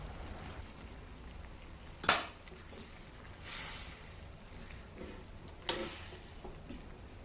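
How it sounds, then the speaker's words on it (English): Potatoes and cauliflower for aloo gobi hit hot oil in a pan, giving a few sharp sizzling bursts and scraping stirs over a quiet, low hiss, with no one talking. "When it is heated up and starts to boil, add the potatoes and cauliflowers."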